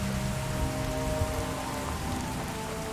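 Steady rain patters across the whole stretch in the virtual reality game Fallout 4 VR, a dense continuous hiss of drops on surfaces with a low rumble underneath and no voices.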